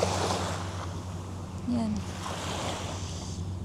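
Ocean waves wash steadily against a Maldives resort beach with clear green water, a continuous near surf wash with a brief voice speaking over it.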